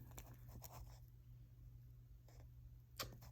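Pen scratching on paper while trigonometry ratios are worked out in a maths lesson, with faint, intermittent strokes over a low electrical hum.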